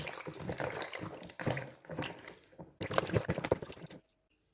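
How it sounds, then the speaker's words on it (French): Guavas being washed in water, with close splashing, squishing and sloshing in irregular bursts that stop abruptly. "je lave les goyaves."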